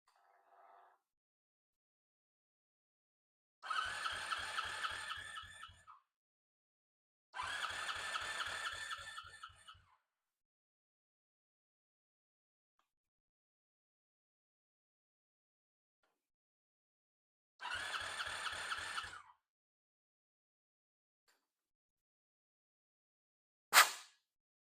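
A Honda V65 Sabre V4 motorcycle engine cranks over during a compression test with the throttle open: three separate bursts of rapid, even starter-driven chugging, each a couple of seconds long, separated by silence and ending in a sharp click.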